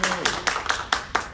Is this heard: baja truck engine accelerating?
no